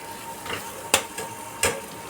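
Soaked raw chickpeas lightly frying in a pan over low heat: a steady, soft hiss runs throughout, broken by two sharp clinks or scrapes of stirring, close by and with no talking.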